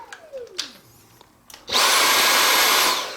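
Dyson V8 cordless vacuum cleaner switching on in normal mode, giving a loud, steady high-pitched whine and airy rush that holds evenly for over a second after quieter handling noises, with no talk.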